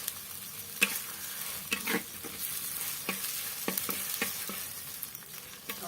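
Ginger-garlic paste fries in a clay kadai for a country chicken curry, with a soft continuous sizzle broken by repeated sharp stirring scrapes and taps of the spoon, close by and without speech.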